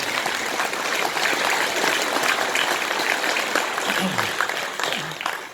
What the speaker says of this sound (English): You never give me applause like that when I was singing at the beginning, did you?